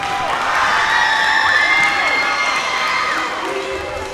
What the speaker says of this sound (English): Let's give them a round of applause for that amazing performance there.